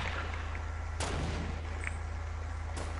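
Gunfire in Fortnite comes as a couple of sharp distant cracks, one prominent and a fainter one later, over a constant humming background drone.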